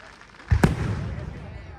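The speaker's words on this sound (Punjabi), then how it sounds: "ਪਟਾਕੇ ਲਗਾਤਾਰ ਉਦਾਂ ਹੀ ਚੱਲ ਰਹੇ" A single sharp firecracker crack bursts during a street celebration of India's World Cup win in Italy, followed by a lingering crowd rumble and background chatter.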